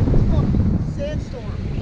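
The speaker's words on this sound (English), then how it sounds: "it is so windy." Strong wind buffets the microphone on a beach during surf fishing for false albacore, a steady low roar across the whole moment with voices faintly mixed in.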